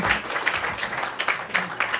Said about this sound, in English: Please again give a big round of applause for the